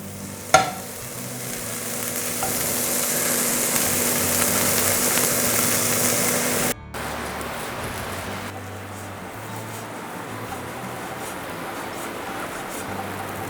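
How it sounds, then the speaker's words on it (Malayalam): Leftover idli pieces shallow-frying in hot oil make a loud, steady sizzle that hisses continuously and then drops to a softer, duller frying hiss partway through, with a brief clank near the start. "ഇഡ്ഡലിയുടെ എണ്ണയും ചൂടായി വരുമ്പോഴത്തേക്ക് ഇഡ്ഡലി ഒന്ന് ഫ്രൈ ചെയ്തെടുക്കുക"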